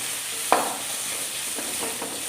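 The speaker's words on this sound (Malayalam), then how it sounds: "നമ്മുടെ സവോള ഏകദേശം നല്ലപോലെ മൂത്തിട്ട് നമുക്കിത് വറുത്ത് പൊരിച്ചെടുക്കും" Sliced onions fry in a pan as a steady, soft sizzle, broken by a sharp clack from a utensil and a few quieter stirring scrapes.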